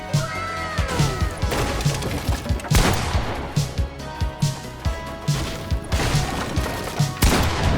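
Busy building-game combat sounds: walls breaking, structure edits and repeated gunshots come in quick rhythmic bursts with sharp crashes and short pitched effect tones, loud and close.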